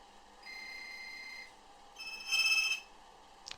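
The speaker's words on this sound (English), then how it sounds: "You'll hear my mobile ring." A mobile phone rings in reply to a call placed from a TETRA digital radio, giving a couple of short electronic tone bursts, the second louder, with a small click at the end, all fairly quiet and alone.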